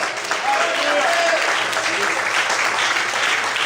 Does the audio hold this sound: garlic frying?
no